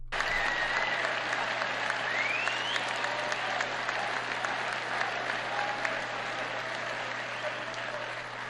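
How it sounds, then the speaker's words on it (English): A large crowd at the 2023 CPAC conference applauds during a Trump speech, producing a sustained, even wash of clapping that holds steady for several seconds before easing slightly toward the end. "And they were applauding him for that."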